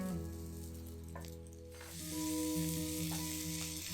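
Fresh mint and coriander leaves sizzle in a hot pan, a steady frying hiss that swells louder halfway through, with faint tonal hum from the kitchen beneath.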